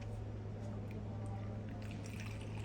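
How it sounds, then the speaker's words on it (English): Cajeput oil trickles into a bottle in a faint, short pour with soft dripping over a steady low hum. "Now let's pour this into the bottle."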